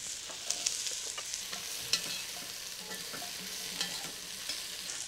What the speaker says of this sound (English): Give it something to saute that squash in.